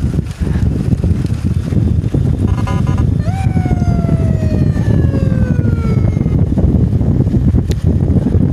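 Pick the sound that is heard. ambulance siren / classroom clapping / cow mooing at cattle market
ambulance siren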